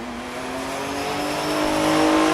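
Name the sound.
Mitsubishi 3000 GT drag racing at Tulsa Raceway Park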